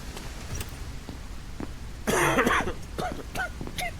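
A man coughs once in a short harsh burst during a quarantine checkpoint inspection in a video game, followed by a few faint murmured sounds in a quiet room.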